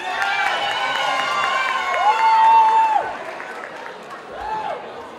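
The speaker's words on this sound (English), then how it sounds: "Give yourselves a round of applause." A crowd at a speech in Detroit's COBO Hall cheers and applauds loudly and steadily, with high whoops and whistle-like shouts rising above the clapping before it thins out near the end.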